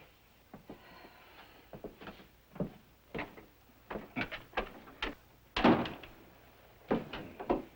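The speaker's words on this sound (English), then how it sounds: "Close the door." A door is shut indoors amid a series of sharp knocks and thuds, one louder impact standing out partway through, with no one speaking.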